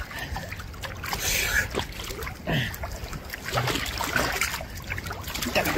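Choppy ocean waves slosh and splash around a swimmer lost at sea, with irregular bursts of water and wind gusts, close and fairly loud.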